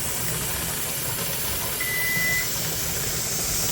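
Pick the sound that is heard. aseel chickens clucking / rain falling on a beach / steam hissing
steam hissing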